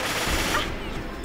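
Dense automatic gunfire from many enemies in the Jagged Alliance 2 video game, a steady loud crackling barrage of game shots filling the whole moment with no pause.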